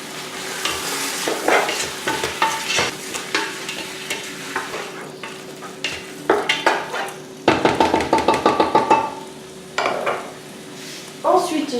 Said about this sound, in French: Alors là, je vais tout mélanger.